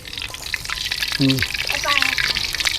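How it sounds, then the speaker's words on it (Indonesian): Freshly caught fish are dropped into hot frying oil and give a loud, continuous crackling sizzle that runs throughout, with two short bursts of a voice over it. "ini minyaknya udah matang, ikannya kita ceburin"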